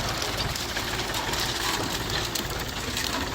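Tractor engine running steadily nearby while someone learns to drive it, a loud continuous rough rumble with no break.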